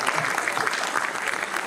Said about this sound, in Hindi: एक बार तालियां और बजा दीजिए।